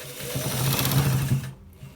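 Sewing machine stitching a shirt, running in a fast continuous mechanical whir close by that stops abruptly near the end.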